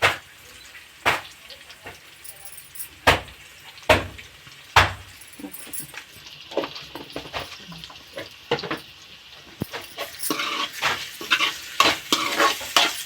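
Onions fry in a pan under brisk stirring, with sharp knocks and scrapes of a utensil against the metal and a soft, rising sizzle that thickens toward the end.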